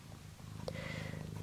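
Cat purring softly and close over a faint steady hum, with a brief click partway through.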